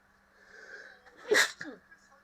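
One sharp, close sneeze bursts out of a quiet room during a FIFA 21 stream, followed by a short breathy tail.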